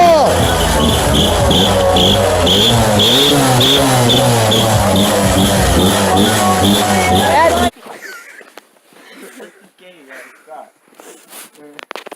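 A loud, turbocharged car engine roars and revs steadily for several seconds, then cuts off abruptly, leaving quieter crowd chatter and voices in the background.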